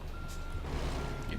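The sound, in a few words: truck reversing beeps in the video game American Truck Simulator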